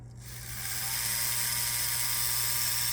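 An ArtDriver Z3 tattoo machine spins up right after a foot pedal engages, a dense steady electric buzz with a low motor hum that swells within the first second and holds evenly.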